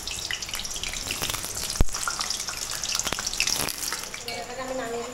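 Potatoes fry lightly in hot oil, making a steady hissing sizzle close by with a few sharp clacks of a utensil against the pan, easing off toward the end.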